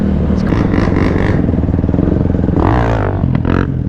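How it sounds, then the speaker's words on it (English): UTV and quad engines revving at a smoky lot, loud and close, with a rough, buzzing idle that climbs into two sharp throttle blips near the end, plus some clattering. "Bro, you can't see nothing with all these freaking UTVs just blowing up smoke."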